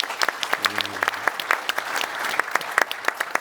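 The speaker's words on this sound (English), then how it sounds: "So let's give them a big applause for continuous support to our collective training." Conference audience at a cyber defence event claps in a moderate, uneven patter of individual hands, distinct claps audible, with a brief voice heard early on.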